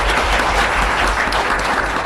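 An audience at a talk gives a round of applause, dense continuous clapping from a crowd, loud and close, filling the whole moment without voices.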